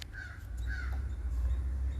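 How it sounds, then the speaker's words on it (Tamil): Two short crow caws ring out about half a second apart, moderately distant over a steady low outdoor rumble, with no one talking. "காக்கா பார்க்குறீங்க நீங்கள்?"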